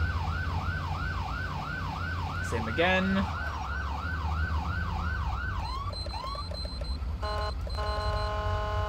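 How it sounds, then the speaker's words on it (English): An ambulance siren from a Los Santos driving video game, sweeping through repeated alternating wails, then briefly shifting to faster yelps and horn-like blasts amid traffic noise, with a short spoken remark. "sirens on alternating tones"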